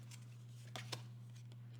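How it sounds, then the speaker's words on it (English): Tarot cards being shuffled, a quiet soft riffle with a couple of brief flicking bursts over a low steady hum, no talking. "I almost dropped the card, so I'm going to shuffle again"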